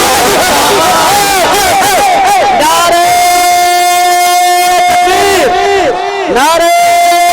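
A crowd at an All India Natiya Mushaira in Bhagalpur raises loud slogans in unison, a sustained chanted roar with rising and falling voices filling the space throughout.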